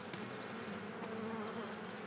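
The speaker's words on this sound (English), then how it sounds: "So we gotta listen for the sounds of bees." Bees buzzing in the Forest Ranger Simulator video game, a soft, steady drone with faint wingbeat wavering, fairly quiet and unbroken throughout, with no voices over it.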